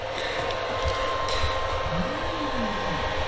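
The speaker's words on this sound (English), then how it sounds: "You got a fan here over the motherboard that's making most of that noise." Steady whirring of small 3D printer cooling fans, including one over the motherboard, runs throughout, a constant broadband hum with a faint tonal whine, close and moderately loud.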